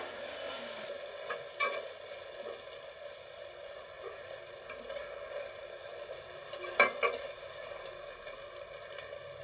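Coriander and mint stirred into a one-pot tomato rice: a few scattered spoon scrapes over a faint steady hum and light sizzle, soft and close, with no voices.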